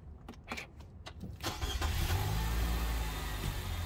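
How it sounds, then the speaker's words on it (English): A car engine cranks and catches after some brief handling noises, then settles into a loud, steady idle that fills the rest of the moment. "start the car"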